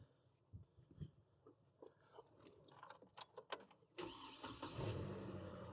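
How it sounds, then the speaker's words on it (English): A car being started with an AUXITO portable jump starter: a few quiet clicks and cranking bursts, then the engine catches near the end and settles into a steady idle, heard close. "Now we got the car started up"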